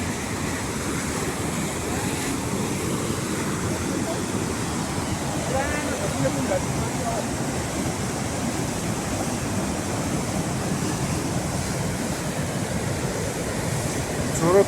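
The Hum river rushes beneath a suspension bridge, a steady, full whooshing roar of fast water with some wind buffeting, constant and fairly loud throughout.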